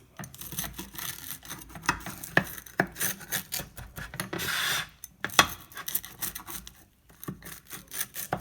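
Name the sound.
pizza cutter slicing vegan quesadilla into triangles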